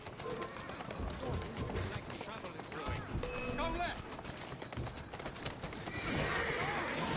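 Horses in Assassin's Creed Syndicate whinny repeatedly and gallop with a steady clip-clop of hooves amid game noise, with people talking over them throughout.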